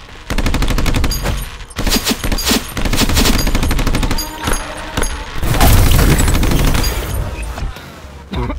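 Rapid, loud volleys of toy Nerf gun fire during a staged battle, dense overlapping shots and cracks continuing almost without pause for several seconds.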